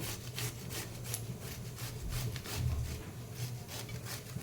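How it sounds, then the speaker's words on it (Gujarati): Two small cucumbers are rubbed across a hand grater in a kitchen, a brisk series of rhythmic rasping strokes, close and moderately loud, with no talking. "હવે આવી 2 નાની કાકડી લીધી છે, એને આપણે આવી રીતે છીની લેવાનું"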